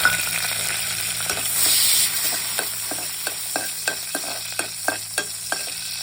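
Green chillies sizzling in hot oil in a home pan, a steady frying hiss with regular sharp stirring scrapes, close and alone with no talk.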